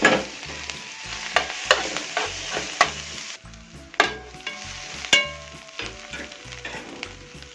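Onion and a garlic clove sizzle in a spoonful of ghee with bay leaf, coriander and mixed spices, a close crackling fry broken by sharp spoon taps and stirring scrapes against the pot.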